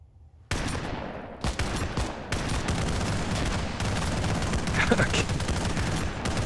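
Heavy continuous battle din in the military game ArmA 3, with grenade blasts and gunfire merging into a dense, loud roar that barely lets up after a sudden onset.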